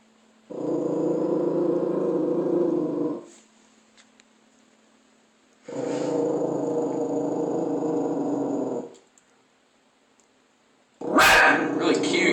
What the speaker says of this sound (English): he just barks even louder